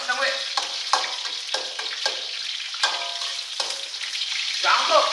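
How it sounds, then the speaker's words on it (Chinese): Ginger and scallion stir-fried in hot rapeseed oil in a wok: a loud, continuous sizzle broken by repeated scraping stirring strokes, with no talking. "姜下锅以后，炒出这个葱姜的香味"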